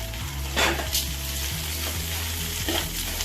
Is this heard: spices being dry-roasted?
yes